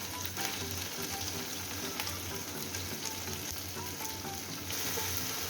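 Chopped onion frying in hot oil with ginger-garlic paste, a steady dense sizzle with faint stirring scrapes throughout, close and continuous.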